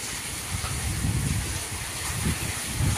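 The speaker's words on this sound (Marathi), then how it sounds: "किती सारा पाऊस येत आहे" Heavy monsoon rain pours steadily under dark clouds during a district yellow alert, a dense continuous hiss with low rumbling swells, close and unbroken, with no one talking.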